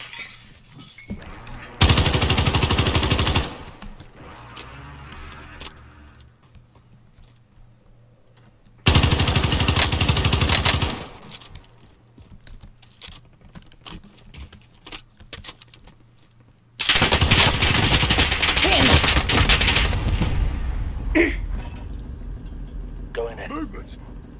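Gunfire in Call of Duty Warzone Plunder mode, three loud sustained bursts of shooting separated by quieter stretches with people talking between them.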